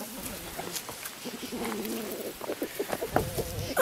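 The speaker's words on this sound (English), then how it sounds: "Birds!" Pigeons or doves cooing near a small garden where worms are eating the plants, steady soft calls at mid distance with faint background noise and no speech.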